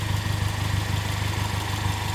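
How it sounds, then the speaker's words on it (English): A modded 2.0-litre four-cylinder Chevrolet Camaro with a new exhaust and its timing slightly off idles roughly in the engine bay, a steady, close low rumble with an uneven pulsing throb and no voices. "I know she sounds a little rough in the engine bay"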